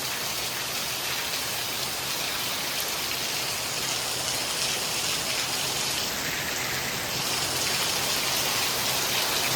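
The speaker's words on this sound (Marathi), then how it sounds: "खतरनाक पाऊस पडतोय हे बघा" Heavy monsoon rain pours steadily and densely throughout, a constant loud hiss of drops hitting surfaces, with no voices.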